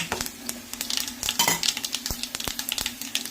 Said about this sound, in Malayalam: ഉള്ളിയൊക്കെ ഒന്ന് മൂത്ത് കടുകൊന്ന് പൊട്ടട്ടെ